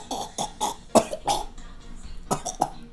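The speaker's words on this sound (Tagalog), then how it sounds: "ito yung maplemang ubo." A person demonstrates a productive, wet cough with phlegm: a series of close, loud coughing bursts in an irregular rhythm, about six or seven hacks across a few seconds with short pauses between them.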